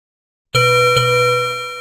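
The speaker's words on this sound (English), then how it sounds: "The bell rings loudly." A loud metallic bell strikes once, then a second strike follows, leaving a bright ringing tone that slowly fades.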